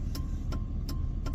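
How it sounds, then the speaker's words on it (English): A car drives past on a busy morning road, giving a steady, fairly loud broadband rumble of tires and engine that holds through the short moment without a clear rise or fade. "I'm gonna let this car pass."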